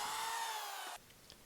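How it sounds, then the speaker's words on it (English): A power drill bores pilot holes in 8 1/2-inch PVC end caps, with a steady high whine that stops abruptly, followed by faint clicks. "I started by drilling pilot holes in 8 1/2-inch PVC end caps."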